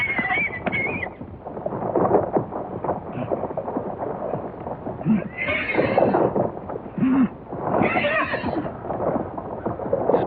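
Horses neighing and whinnying repeatedly at wild horse holding pens, with several loud calls over a dense, busy background of hoof and pen noise.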